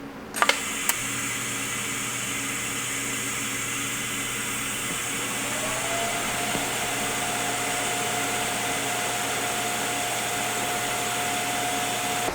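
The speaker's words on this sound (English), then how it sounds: "This piece of plate needs to be welded on there now." Welding a steel plate onto a budget twin-turbo LS-swapped Chevrolet Malibu project car: a sharp click starts a steady, close hiss and hum that runs without a break, and a thin tone rises in the background partway through.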